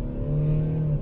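Mercedes-Benz V-Class 2-litre diesel van pulling away gently on snow, a steady low engine drone with a sustained hum that holds evenly for about a second, heard from inside the cabin with no talk.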